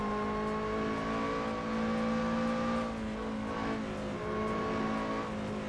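Race car engine in the Assetto Corsa video game, a steady droning whine with slight rises and falls in pitch, continuous and fairly even in level throughout.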